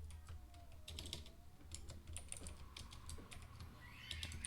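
Keys clatter on a computer keyboard while printf code is typed, a quick, uneven run of soft clicks and taps, close and fairly quiet, with no voices.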